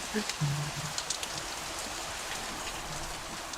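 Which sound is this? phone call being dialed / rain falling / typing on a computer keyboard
rain falling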